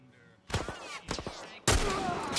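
Gunshots in The Last of Us Part 1, two close bursts of firing followed by a sharp, loud blast, set against a quiet background.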